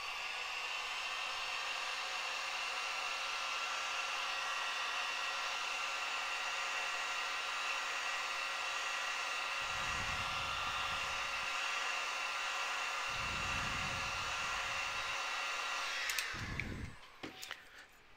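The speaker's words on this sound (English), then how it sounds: "Heat gun." Heat gun blowing on polymer clay, a steady, loud, close whooshing roar that runs continuously with a few low bumps, then cuts off near the end.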